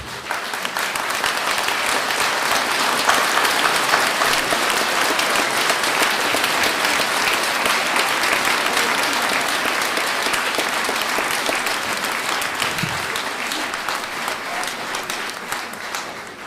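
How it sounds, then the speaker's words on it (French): An audience at a lecture applauds the speaker in sustained, dense clapping that holds steady for the whole stretch and slowly thins toward the end. "Vous applaudissez parce que je m'arrête."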